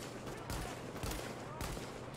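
Gunfire in The Division video game, a few quick bursts of shots in rapid succession at moderate distance, fairly faint and mixed with background noise.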